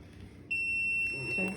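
A heat press timer gives one sustained, shrill electronic beep that starts abruptly and holds for about a second, loud and close over faint room noise.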